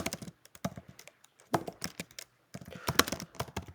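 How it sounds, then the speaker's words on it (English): Keys being typed on a computer keyboard nearby, with short bursts of quick clicky keystrokes separated by brief pauses, heard alone without talk. "Then you just hit the tab button before you start typing."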